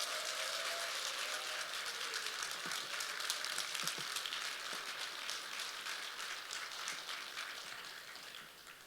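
Church congregation applauding during a Sunday worship service to welcome a newly ordained pastor, a faint, steady patter of many hands clapping at a distance, with no voices over it.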